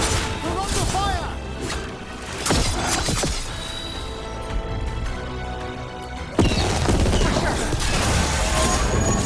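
Gunfire and crashing impacts from combat in Dragon Age: The Veilguard come in heavy bursts, with sharp blasts near the middle and end over a constant loud battle din, while voices call out during the fighting.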